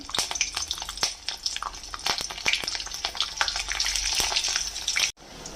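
Mustard seeds and slit green chillies spluttering in hot mustard oil in a kadai: a dense, close crackle with sharp popping clicks throughout, cutting off abruptly near the end.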